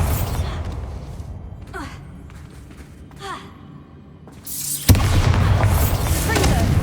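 A Bombarda explosion spell goes off in Hogwarts Legacy as a single loud, booming blast that breaks in suddenly after quieter magical whooshes and then holds a dense roar. No voice is heard.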